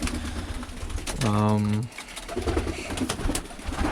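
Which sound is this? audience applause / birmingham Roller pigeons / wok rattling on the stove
birmingham Roller pigeons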